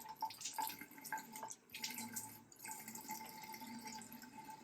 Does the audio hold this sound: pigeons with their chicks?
no